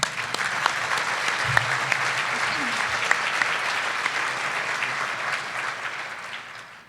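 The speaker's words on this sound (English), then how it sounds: "Now let's applaud" Steady applause from an audience at a 2023 economic outlook event, an even wash of many hands clapping that holds for several seconds, with a few scattered voices beneath.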